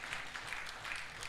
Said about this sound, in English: Can we clap for the Bureau?